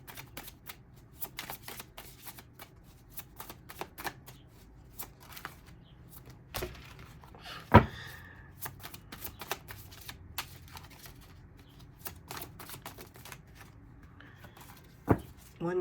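Tarot cards being shuffled for a collective pick-a-card reading, with sparse, irregular papery flicks and taps spread over a quiet stretch and a couple of sharper slaps, close and intimate, no speech.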